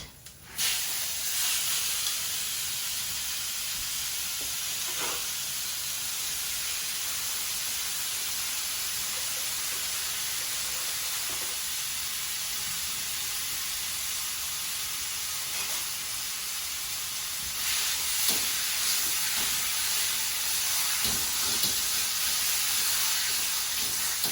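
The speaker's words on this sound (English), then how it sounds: "Oil to my pan, and I'm going to add the meat." Meat sizzles and hisses in hot oil in a pan, a continuous bright frying noise that swells louder near the end, broken by a few small clicks and pops.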